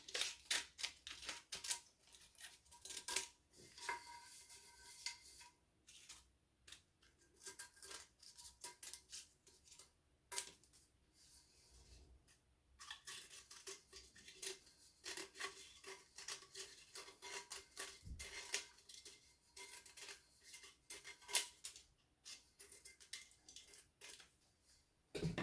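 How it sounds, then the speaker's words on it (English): Scissors snip and trim excess sublimation tape wrapped around a 20oz tumbler, giving a run of quiet, irregular cutting and rubbing sounds close by, with no talking. "Now I trim the excess off here."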